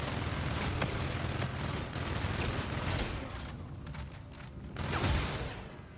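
Nonstop bursts of automatic gunfire in the Beast from Beyond zombies video game, dense rapid shots with a brief lull before another loud burst, no voices.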